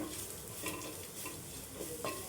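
Ajwain (carom) leaves with a pinch of salt fry over a medium flame in a pan while being stirred, giving a soft, steady sizzle with light scraping strokes throughout.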